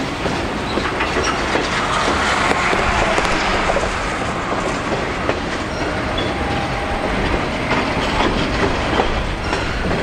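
Heavy freight train with multiple locomotives rolling steadily along the rails, a continuous loud rumble with rhythmic clickety-clack of wheels over rail joints, close by and unbroken throughout.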